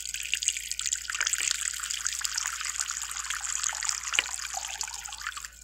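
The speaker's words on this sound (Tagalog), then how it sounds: "Tapos lalagay tayo ng tubig." Water is poured into a terrarium set up with coco fiber substrate and sphagnum, a steady close trickle and splash that runs for several seconds without a break.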